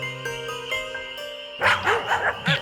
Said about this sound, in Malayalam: പെട്ടെന്ന് ഇരുട്ടിൽ നിന്നും നായ്ക്കൾ ഭൗ ഭൗ എന്ന് കുരച്ചുകൊണ്ട് കുറുക്കന്റെ